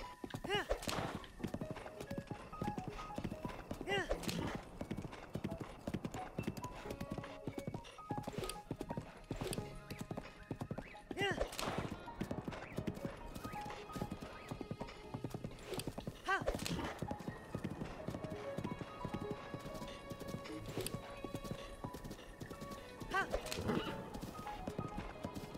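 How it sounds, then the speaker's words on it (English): A horse's hooves clip-clop in a steady trotting rhythm in Zelda: Breath of the Wild, with occasional whinnies and snorts over game music and ambient sounds, and a voice speaks at moments. "This is my favorite horse."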